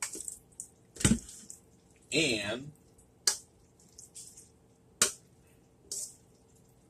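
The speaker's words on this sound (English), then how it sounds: "I'm going to pour the casserole" Chicken noodle casserole is poured into a buttered 13 by 9 pan, giving a few wet squishes and soft plops spaced out over quiet pauses, with brief speech.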